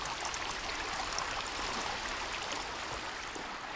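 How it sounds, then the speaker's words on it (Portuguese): A waterfall in the video game Sons Of The Forest gives a steady, dense rush of falling water that fills the whole clip with broadband noise. The sound is close, loud and even, with no voices over it. "Aqui, vamos descer por essa cachoeira."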